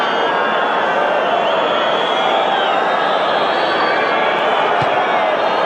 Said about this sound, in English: So at last, something for this crowd to cheer.